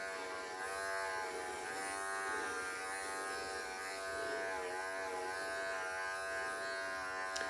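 Electric clippers buzz steadily and close up while shaving around a dog's rear during grooming, a continuous motor hum with slight pitch wavers and no talk.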